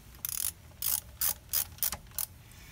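A ratchet wrench tightens a bolt on a KTM 690 Enduro R motorcycle during an oil change, six short bursts of rapid clicking, close and crisp, with brief pauses between strokes.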